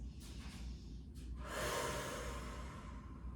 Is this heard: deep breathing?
yes